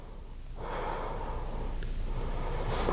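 A person breathes in through the nose during a classroom breathwork session, a soft, close, airy snort-like inhale with a couple of slower breath sounds that follow, no speech.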